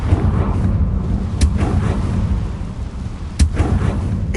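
Confringo fire spells go off in Hogwarts Legacy as two sharp, booming blasts about two seconds apart over a low, rumbling game background.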